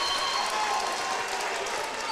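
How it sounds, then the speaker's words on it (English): Spectators in a gym applaud at a Highland versus Triton community college basketball game after a player gets up from a fall. Steady, moderate clapping from a crowd, with a commentator talking over it. "Crowd gives him a big hand."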